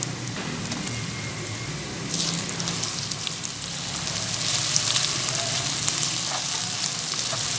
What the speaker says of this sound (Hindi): अब मैं इसमें अदरक लहसुन का पेस्ट ऐड करती हूँ।